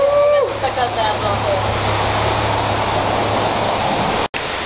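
Self-service bay car wash in Ramstein, with loud, steady water spray hissing close by and a brief high whine at the start before the spray cuts out for an instant near the end.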